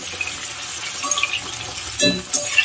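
Eggplant sautés in a pan for a Tamil brinjal kuzhambu, giving a soft steady sizzle with faint scraping and a couple of louder stirring clatters near the end, and no voices.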